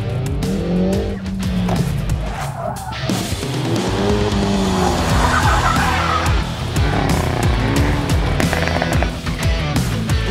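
A Hyundai i30 N on Hankook tires is pushed to the limit on the Nürburgring. The engine revs loudly and rises and falls through the gears while the tires squeal and skid in repeated close bursts.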